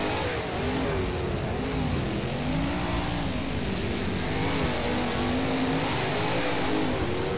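A 410 sprint car roars around Premier Speedway in rFactor, a loud steady engine drone with wavering pitch as the throttle rises and eases through the corners.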